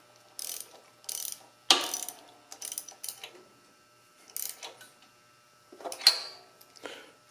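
A hand ratchet clicks in quick bursts while installing spark plugs on a Husqvarna zero-turn lawnmower during a tune-up, with several separate runs of close, crisp ratcheting and short pauses between them.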